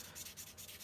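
A sanding sponge rubs across a plastic part of a 1/144 High Grade RGM-79G model kit in quick, soft, rhythmic strokes, close and quiet, with no talking.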